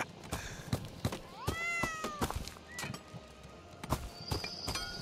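A cat meows in the RPG dungeon game Sir Whoopass: Immortal Death, a clear rising-falling meow or two amid rhythmic clip-clop footsteps and thuds of gameplay, fairly quiet overall.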